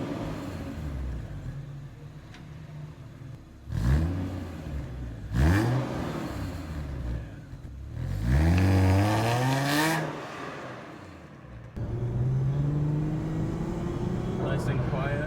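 A supercharged Lexus IS 350 F Sport with an XFORCE Varex exhaust revs from outside in several sharp, rising bursts over a low idle, with a voice talking between them.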